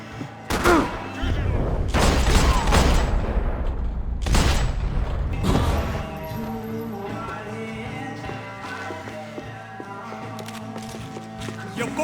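Gunfire in Max Payne 3 comes as loud broadband bursts and volleys across the first six seconds, then gives way to a quieter music-like tonal bed; shouted voices are mixed in with the shooting.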